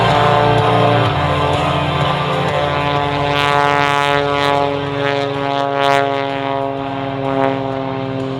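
Sky Aces propeller aircraft in their final sequence before landing at the Australian International Airshow. A loud, sustained engine drone with layered throbbing tones shifts in pitch as the aircraft pass, with brief bursts of crowd or wind noise.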